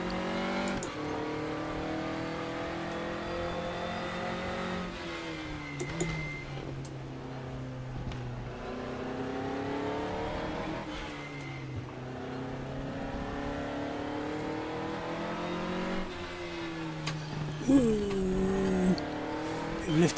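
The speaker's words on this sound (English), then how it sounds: "Let's accelerate through the corners." Race car in the Raceroom sim, a DTM 2020 car at Motorland Aragon, accelerating hard through corners on cold front tyres: a steady engine drone rising and falling with revs and gear changes, a brief squeal near the end.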